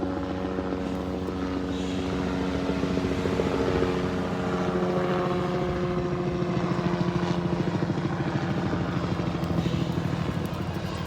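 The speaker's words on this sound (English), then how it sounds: "So we've got the helicopter coming over." A helicopter flies overhead near a coastal village, its rotor and engine drone loud and steady throughout the whole stretch without any talk.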